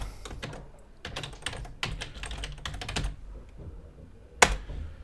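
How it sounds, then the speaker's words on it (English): Someone types on a computer keyboard in uneven bursts of quick keystrokes that pause and then restart. A single sharp click stands out near the end, and no one speaks. "Let me type that in."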